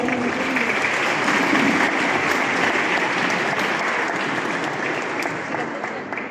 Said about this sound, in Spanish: Un aplauso para el doctor, por favor.